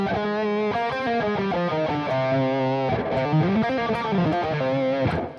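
Distorted electric guitar runs steadily through a Dorian scale, one note after another, with smooth bends and sustained tones, played alone and fairly loud without talk.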